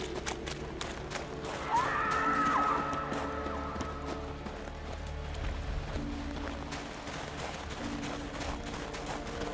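Steady clip-clop of horse hooves at a running pace in The Witcher 3: Wild Hunt, with a brief whinny early on, set over a low continuous background.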